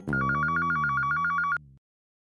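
A telephone bell rings in a fast, continuous trill for about one and a half seconds, loud and close, then cuts off abruptly.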